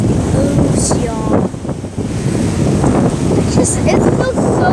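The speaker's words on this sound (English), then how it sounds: "It feels so good to just sit by the ocean and feel the breeze." A constant breeze gusts across the microphone beside the ocean, with surf washing in the background and a person talking over it.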